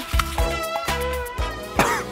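A cartoon character coughs repeatedly, several loud harsh bursts spaced across the moment over a continuous musical background.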